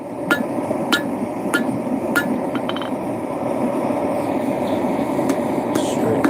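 Hammer strikes forging a blade bevel at an outdoor forge, sharp metallic rings spaced about half a second apart, several clear hits over a constant roaring background hum.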